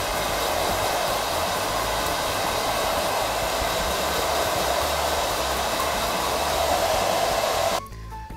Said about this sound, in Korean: 젖은 머리 상태에서 가볍게 발라준 후에 드라이기로 머리를 말려주시면 되는데